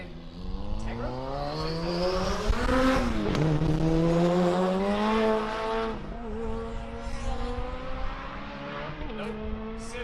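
A Honda Civic and a Camaro launch in a drag race at the TX2K21 event, engines winding up through rising, shifting revs, loud and close, with a brief tire chirp and crowd noise around.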